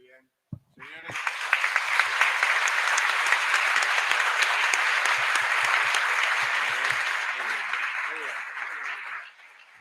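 A lecture-hall audience bursts into sustained applause after a short knock and pause, dense clapping holding steady for about eight seconds before tapering off, loud and close.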